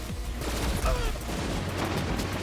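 Rapid bursts of booming, crackling explosions and gunfire-like pops from Borderlands 3 pile up densely, loud and continuous with no pauses.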